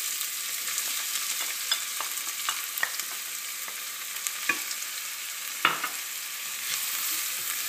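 Onion and garlic sauté in a hot pan for lentils, giving a steady close sizzle broken by frequent light clicks and scrapes from stirring, with one louder scrape partway through; nobody talks.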